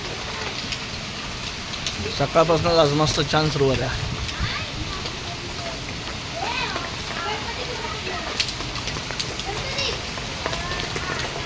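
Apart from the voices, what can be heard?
rain falling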